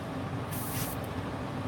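An airbrush sprays paint onto a plastic model kit in a short hiss lasting about half a second. A steady hum continues underneath, and a tiny second puff follows.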